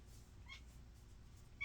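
A cat meows faintly a couple of times in a room, brief and quiet against low background noise.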